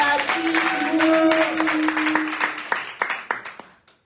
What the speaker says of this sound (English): A round of applause for Nadia Katibu.